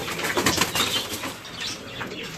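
Pigeon wings flap in a quick burst of dry fluttering beats from a young bird newly started in breeding, close by and fairly loud, with no talk over it.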